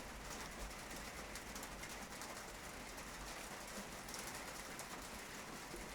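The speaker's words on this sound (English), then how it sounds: "Here comes that rain." Rain falls steadily in a constant soft hiss that stays fairly faint and even, with no talking.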